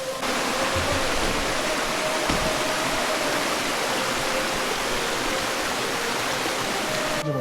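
A mountain waterfall on the Sathuragiri hills pours down in a steady, loud broadband roar of rushing water, continuous and close throughout with no voices.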